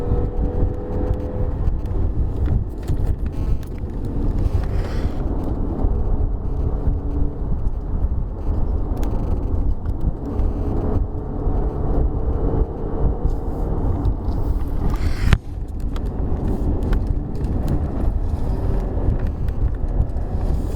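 Engine of a 2019 Hyundai Santa Fe 2.4L in third gear during a spirited test drive, a steady low cabin drone with road and wind rumble, continuous and fairly loud, with a brief thump near the end.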